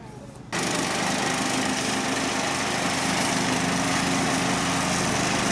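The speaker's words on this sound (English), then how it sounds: "Alan Goff donating his own personal lawnmower to making us a little nicer field for tomorrow" A lawn mower engine starts up loudly after a brief quiet moment and keeps running at a steady, droning pitch nearby.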